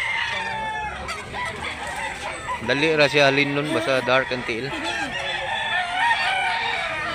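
At a Mantalungon, Barili, Cebu fowl market, a grey gamecock crows loudly in the middle while clucking and other fowl calls carry on around it, as someone talks over much of the scene.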